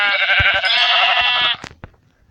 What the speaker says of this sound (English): So I'm gonna kill the sheep.